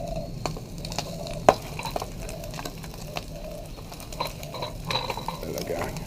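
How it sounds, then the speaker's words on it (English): Spam fries in a small pan with a low, steady sizzle, broken by scattered clicks and scrapes of a utensil against the metal, close by. "Sizzling"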